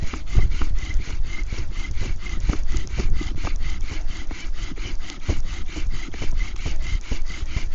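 Rhythmic back-and-forth rasping of a bow drill spinning a spindle in a fireboard, driven by a cattail-fibre bowstring with an ice bearing socket, the strokes steady and close at roughly three per second.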